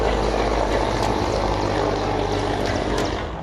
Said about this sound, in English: The chopper can be seen and heard roaring overhead